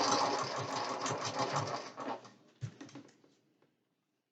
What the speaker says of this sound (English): sewing the first edge. Got a 1/4 inch seam on the edge.